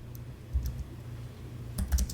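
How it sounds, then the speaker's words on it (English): Keys tapped on a computer keyboard while typing a short terminal command on an Ubuntu system: a few soft, scattered keystrokes, then a quick cluster of clicks near the end, close and fairly quiet with no talking. "I will type tuneup -A"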